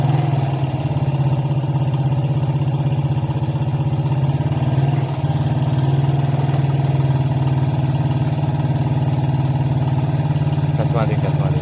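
A motorcycle engine idles steadily with a deep, even throbbing hum that holds through most of the stretch, with a slight rise in throttle partway and talk mixed in.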